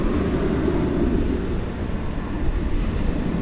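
A Boeing 737-800 airliner at DFW Airport at night gives a steady, loud, dense engine roar that holds evenly without a break.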